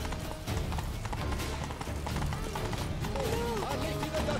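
A horse carrying a rider gallops in The Witcher 3, hooves clip-clopping in a quick, steady rhythm up close, with a short neigh near the end and background music underneath.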